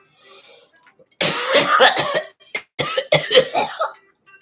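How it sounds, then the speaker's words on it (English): A person coughs after smoking a joint, several harsh, close coughs in two quick bursts with a brief gap between them. "You got me coughing for the joint."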